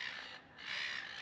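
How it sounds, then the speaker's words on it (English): Seagulls at a ferry terminal give two harsh, raspy squawking calls that follow one another closely, loud against the open-air background, with no voices present. "now just waiting amongst the noisy seagulls for the ferry to arrive"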